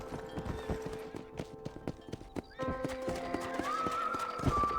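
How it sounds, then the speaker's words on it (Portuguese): Horses in Red Dead Redemption on PC, hooves clip-clopping in a fast uneven rhythm up close while a horse neighs and whinnies loudly near the end. "Os cavalos estão tudo loucos."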